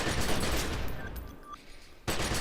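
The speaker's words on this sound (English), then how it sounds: "Let's try out this assault rifle." An assault rifle firing in The Secret World, a loud close burst of rapid automatic shots that breaks off into a short quiet gap before another sharp burst begins.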